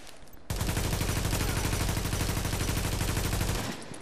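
A dense, continuous burst of automatic gunfire from the video game The Division, loud and close, starts abruptly and hammers on for about three seconds before cutting off.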